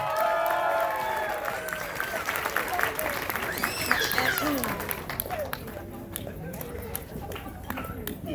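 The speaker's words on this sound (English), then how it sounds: "Give them a huge round of applause, come on." Wedding reception guests applaud a couple's dance, a dense crowd clapping with some cheering and a voice talking over it, fading slightly toward the end.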